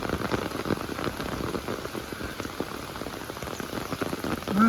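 Steady rain pattering on a surface, a dense, even patter of drops with no voices, continuous throughout.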